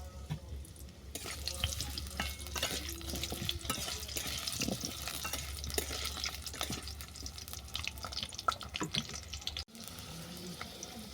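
Cut potatoes sizzle steadily in hot oil tempered with whole spices, with frequent spatula scrapes and stirring clatter throughout and a brief pause near the end.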